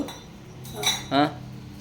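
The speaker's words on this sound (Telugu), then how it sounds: "గిన్నెలు తోముతున్నావా నువ్వు" Two short bursts of metal utensils clinking and scraping against dishes as they are scrubbed, close by, over quiet background.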